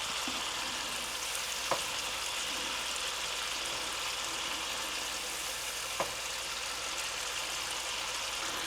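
A tomahawk ribeye steak fries in a hot pan, giving a steady, dense sizzle throughout with two faint clicks and no talking.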